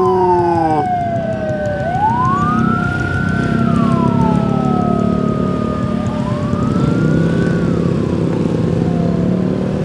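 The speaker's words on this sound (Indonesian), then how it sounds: "Tuh kalau ambulan bawa orang MD tuh bunyinya begitu guys" An ambulance siren carrying a deceased person wails loudly in slow, long rising and falling sweeps, with steady traffic and engine noise beneath it on the road.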